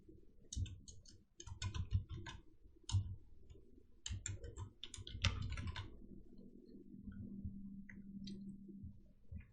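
Fast, irregular clicking of keys on a computer keyboard, with bursts of typing separated by short pauses and a quieter patch near the end, close and moderately soft with no talking.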